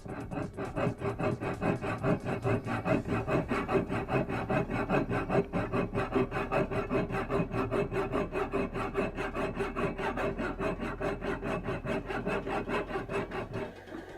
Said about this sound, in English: Now have it off and kind of smooth it out with a file.